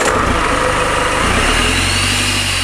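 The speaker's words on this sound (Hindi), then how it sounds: "तो अभी हम गाड़ी स्टार्ट करते हैं और देखते हैं इधर से ऑयल आ रहा है या खाली एयर ही आ रही है" A car engine with a turbocharger oil-burning fault runs loud and close, a dense churning roar that settles into a steady idle rumble partway through, with no talk over it.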